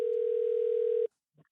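Telephone call tone while dialing, a single steady loud tone held for about a second and then cut off, followed by silence and a faint brief click.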